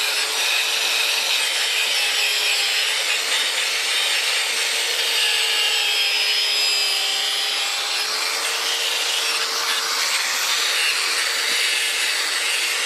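A drill with a grinding attachment, machining an axle part for a 1967 Airstream Caravelle trailer, whines continuously at high speed, a harsh abrasive buzz that holds steady, loud and close with no pauses.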